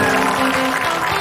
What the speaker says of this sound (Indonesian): saya mohon tepuk tangan untuk Lingkung Seni Budaya Tradisional L2